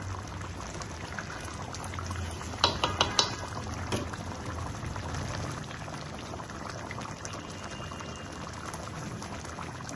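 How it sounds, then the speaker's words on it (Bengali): Mustard hilsa curry bubbles steadily in a pot, a dense low simmering burble with a few brief utensil clinks early on, no voices. "দেখেন আমার সরিষা ইলিশটা টকটক করে ফুটছে।"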